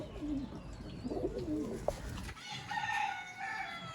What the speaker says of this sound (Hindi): इनको दोस्तों बोलते हैं नायाब चूहे कबूतर